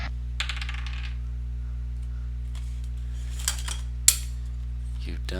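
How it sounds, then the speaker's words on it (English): A die tossed onto a table during a Dungeons & Dragons game, a few light clicks and a sharp clatter as it lands, over a steady low hum with faint background voices. "That is the sound of Don tossing away a die."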